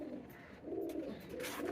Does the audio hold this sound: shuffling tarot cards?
no